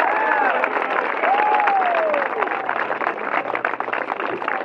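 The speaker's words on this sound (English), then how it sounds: "Let's give them a round of applause." Crowd applause and cheering for a volunteer rescue team after a high school prom drunk-driving crash drill outdoors, a steady clapping wash with whistles and calls rising over it.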